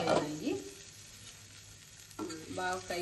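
Stuffed chillies fry in a pan with a soft sizzling hiss beneath someone speaking at the start and end, the sizzle continuing faintly in the pause between.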